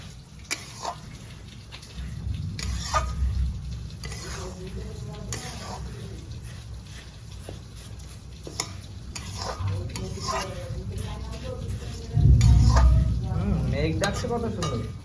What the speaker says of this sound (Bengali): চালটা হালকা করে ভেজে নিতে হবে।